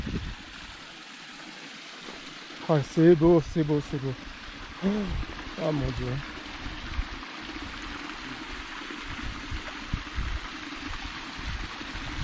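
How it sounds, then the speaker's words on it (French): Small waterfall cascades flowing in a mountain setting, a steady rushing, splashing wash of water heard up close throughout while people talk excitedly over it. "On fait toutes les cascades pour se masser le dos."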